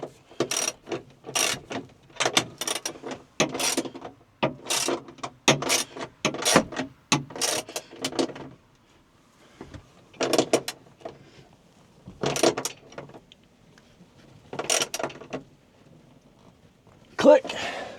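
A ratcheting torque wrench tightens bolts during a combine overhaul, producing rhythmic bursts of close mechanical clicking that start and stop repeatedly, with short pauses between strokes.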